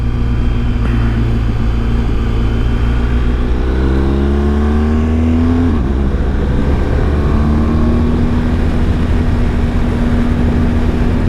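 A BMW GSA motorcycle rides a green springtime country road. Its engine drones steadily and loudly throughout, rising in pitch as it accelerates, then dropping and climbing again around a gear change, with no talking.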